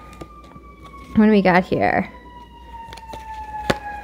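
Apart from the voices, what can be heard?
emergency vehicle sirens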